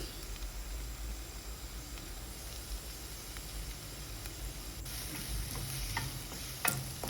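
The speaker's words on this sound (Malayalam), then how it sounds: "ഇത് നന്നായിട്ടൊന്ന് വഴറ്റിയെടുക്കണം" Onion, green chili and curry leaves sauté in a pan for biryani, giving a steady low sizzle with faint stirring scrapes and a few sharper clinks near the end, no voices.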